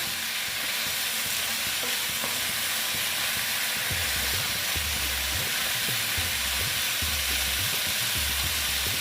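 Vegetarian pumpkin chhokka curry fries slowly in a pan, a constant close hiss of sizzling joined partway through by low, rhythmic thumping from steady stirring.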